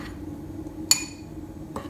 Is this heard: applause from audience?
no